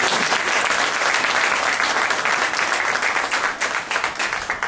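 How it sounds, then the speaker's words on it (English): Wedding guests break into a loud, sustained round of applause for the bride, dense clapping filling the whole stretch with a few scattered cheers mixed in. "I think we need to give Julia a big round of applause"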